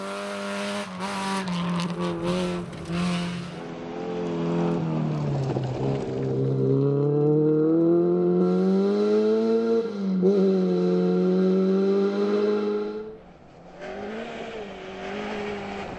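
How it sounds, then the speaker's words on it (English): Honda Civic rally car at a forest rally revs hard and high, its engine note rising and falling through the gears in a loud, sustained whine that fades briefly before surging again. "Third in class for the second time this season was the high-revving Civic of Ryan Ingram and Stuart McLean."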